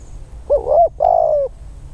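Two soft, smooth coos from a nearby spotted dove, a short rising note then a longer steady one, over a low background hum.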